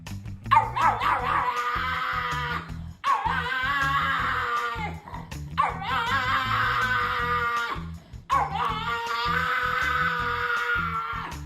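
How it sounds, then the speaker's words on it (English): A puppy that has not learned to bark gives out four long, high squeaky yelps in a row, each a wavering whine-like cry, loud and close, with short gaps between. "This dog hasn't learned to bark yet. Take a look at how it squeaks."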